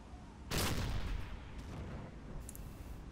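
A U-boat deck gun aboard UIT 25 in a Silent Hunter submarine game fires one sharp, loud report that decays into a rumbling tail, with faint background ambience continuing afterward.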